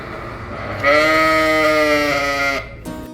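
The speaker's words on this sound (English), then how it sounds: "The sheep and goat barn also saw quite a few occupants as well." A single long, loud bleat of a sheep or goat rings out for nearly two seconds over quieter noise in the sheep and goat barn at the Washington State Fair.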